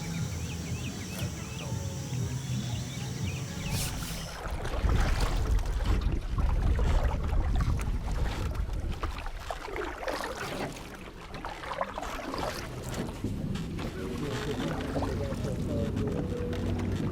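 Boat paddled along a river in Congo, with broad rushing water and wind noise throughout, a louder surging stretch in the middle, and a voice speaking over it at times.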